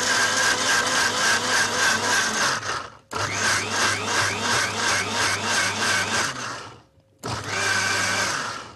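A mixer grinder grinds soya for soy milk, a loud steady whirring roar in three bursts separated by two short pauses, with no talking.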